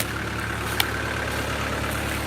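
Low, steady rumble of a tractor engine idling in the background during maple sap collecting, with a single faint click partway through.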